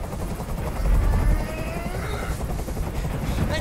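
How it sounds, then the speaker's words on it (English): Helicopter rotor drone in the game Detroit: Become Human, a steady low rumbling throb that swells briefly, mixed with game noise and faint background chatter. "Tell that helicopter to get out of here!"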